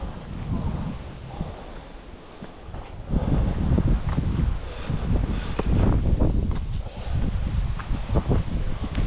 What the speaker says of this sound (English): It's a gust.